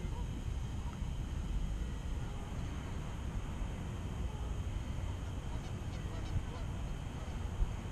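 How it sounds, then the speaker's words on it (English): Distant geese honking faintly over a steady wash of wet outdoor rumble and noise in the bush at dusk, with no clear individual calls standing out. "I hear geese."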